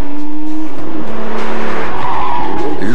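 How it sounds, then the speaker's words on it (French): An Osella race car spinning out at the Le Mans Classic 2006 historic race. Loud, close tire squeal and skidding sounds over the engine's shifting whine, with no talk. "L'Ozella de Louis Surstrassen part en vrille"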